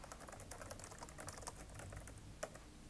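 Typing on a computer keyboard, a quick run of light clicking keystrokes, faint and close, with one sharper key press near the end.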